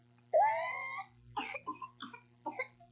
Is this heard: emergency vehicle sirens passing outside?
no